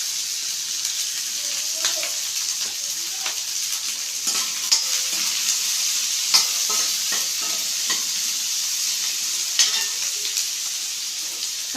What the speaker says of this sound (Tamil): வெங்காயம் நல்லா கொஞ்சம் வதங்கட்டும்